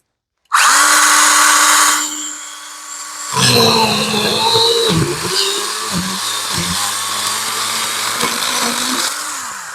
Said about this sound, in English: I'm going to take the pruning saw and go all the way to the bottom and just cut that one off